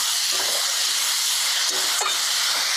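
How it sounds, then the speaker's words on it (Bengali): Steam hissing loudly and steadily from a cooking pot of tomato and spices as the lid comes off, a dense continuous rush with faint clatter. "ঢাকনাটা উঠায় দিই।"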